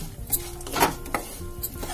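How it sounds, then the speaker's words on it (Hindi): Sesame seeds roasting in a pan for sesame-jaggery laddoos, stirred with a utensil, giving brief scraping clinks and soft rattles at close range with no talk. "ये बीज डाल देंगे और इसको अच्छे तरीके से एकदम रट के बस जल्दी ही भुन जाते हैं"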